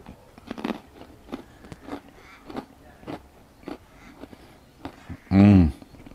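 Marinated goat cheese being chewed, with soft close mouth sounds and small bites spread through, ending in a brief loud burst near the end.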